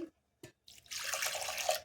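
Water pours into a mixer jar while rice batter is being ground for homemade rice papad, a steady splashing rush after a few brief knocks, close and moderately loud.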